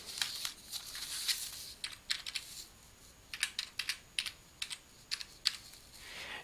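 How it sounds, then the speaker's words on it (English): Fingers type search terms on a computer keyboard in a library database, producing light, close key clicks in short irregular bursts with quiet gaps, and no one speaks. "Type your search terms, and you can refine your search in much the same way."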